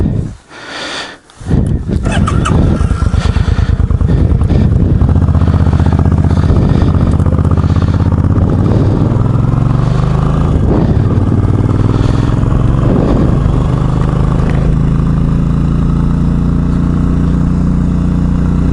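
A 2003 motorcycle with no windshield starts up loud and close, then its engine settles into a steady, throaty run with rising and falling revs as it is ridden around town.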